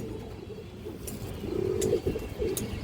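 A ring-eyed pigeon coos once, a soft low burble near the middle of the clip, fairly close against a faint background hum.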